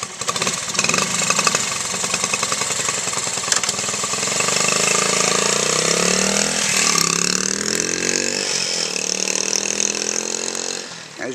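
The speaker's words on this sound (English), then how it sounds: "As you can see, the bike fires right up." 1970 Honda CT70H 4-speed small motorcycle engine running steadily, a buzzy, rattly single-cylinder note that revs up and down for the whole stretch, loud and close.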